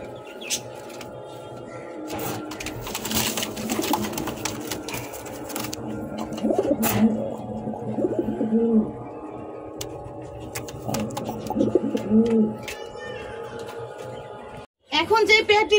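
Fancy pigeons kept in pairs at a Bangladeshi breeder's loft, including red king running pairs, give soft repeated coos among chirps and ambient noise, with steady background sounds throughout.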